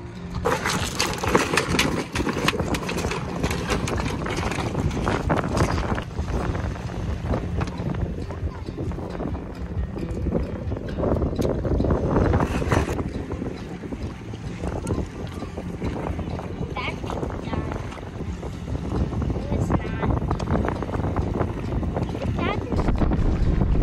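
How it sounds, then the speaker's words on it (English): Steady wind buffeting the microphone outdoors on Vancouver Island, a broad continuous roar with gusts rising and falling throughout, along with low rumbling and some clattering. "Pretty windy out here."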